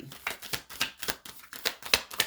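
A deck of astrology cards shuffled by hand nearby, with a steady rhythm of about nine crisp papery riffles and snaps, each a brief burst, quiet and with no talking.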